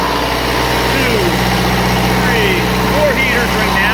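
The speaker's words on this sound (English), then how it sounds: "we got some load on this genset here" A 15.0 DJC generator set runs steadily under load from four heaters, a loud, close, continuous engine drone with a strong low hum and no change in pace.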